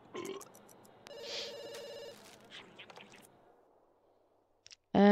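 A telephone rings in The Sims 2, a chirpy electronic trill repeating briefly at moderate volume amid game sound effects, followed by quiet and then a loud burst at the end.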